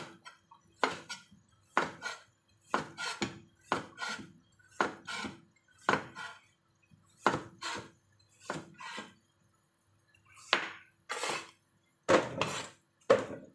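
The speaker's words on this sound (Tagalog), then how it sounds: "Siyempre, unahin natin hiwain itong carrot natin." A knife chops through a carrot on a cutting board in a series of about a dozen and a half crisp, separate strikes, uneven in rhythm with short pauses, close and clear with no voices.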